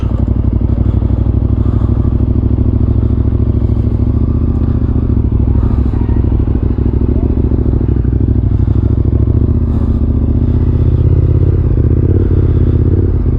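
A KTM 1290 motorcycle on a group ride, its engine roaring loud and close with a steady throbbing drone and wind rush throughout.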